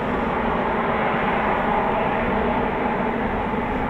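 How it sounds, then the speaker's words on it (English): An RAF Eurofighter Typhoon FGR4 jet taxis at night at RAF Coningsby, giving a steady, continuous broadband engine roar that stays even and moderately loud with no talk over it. "Typhoon's taxiing out now."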